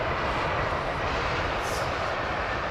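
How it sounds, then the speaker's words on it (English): An airliner powered by GEnx jet engines roars at Heathrow Airport, a loud, steady, broadband rumble that fills the whole moment without a break. "is the GE9, is the Gen X engine, the GENX engine, more powerful than the GE90"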